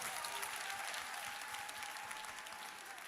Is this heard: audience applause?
yes